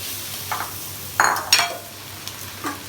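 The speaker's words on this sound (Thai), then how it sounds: "กำลังจะใส่ปลานีลงไปนะคะผัดกับผัด" Tilapia being stir-fried in a pan: a few scattered spatula scrapes and metallic clinks over a faint sizzle, close and fairly quiet, with no one speaking.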